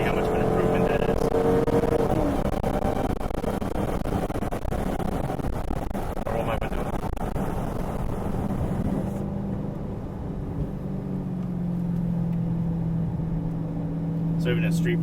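A 2017 Dodge Charger Hellcat cornering in street mode, its engine a continuous low drone that rises and eases with the bends, heard from inside the cabin with a voice talking over it.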